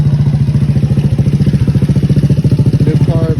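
Repaired go-kart engine running in a repair shop, a close, loud, rapid rhythmic putter of a small single-cylinder motor with steady regular pulses throughout.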